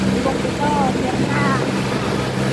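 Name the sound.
boat motor running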